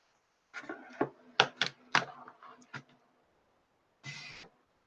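A computer keyboard being picked up and typed on during a software demo: a short burst of clattering clicks and knocks, close and clear, followed by a pause and one more brief rustling clunk.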